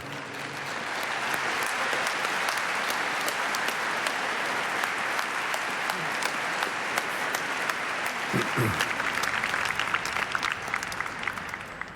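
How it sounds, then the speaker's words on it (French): Congregation applauding inside Notre-Dame de Paris during the 2014 Easter Mass, a sustained, reverberant wave of clapping that builds and holds for the whole stretch, with a brief low voice partway through. "comme vous êtes partis pour applaudir et remercier"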